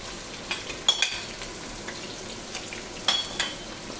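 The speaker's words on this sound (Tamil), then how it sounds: "ஸோ இப்போ நம்ம ஆனியன் போட்டுடலாம்." Onions frying in oil for chicken biryani: a quiet, steady sizzle with a few soft crackles and light stirring clicks, no voices.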